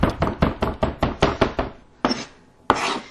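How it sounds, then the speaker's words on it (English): A big knife chops through beef heart on a board in a steady run of sharp thuds, about ten quick strokes close up, followed by two slower, isolated chops after a pause. "So now I'm going to just give it a chop with a bigger knife."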